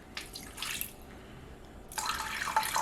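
Water from a tap runs and pours into a meatloaf baking pan in a kitchen, two short close bursts of splashing flow separated by a quiet pause.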